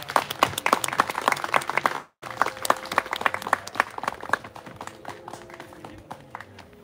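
Audience clapping at a memorial rally for a labor activist, a burst of dense applause that cuts out briefly, then resumes and thins to scattered claps.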